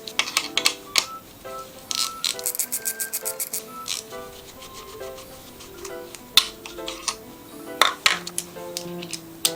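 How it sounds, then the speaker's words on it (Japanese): Metallic ticking, clinks and scraping of a tool working a screw loose while disassembling a car alternator, a close series of irregular light taps and ratchet-like clicks with no talk. "このネジを外します。"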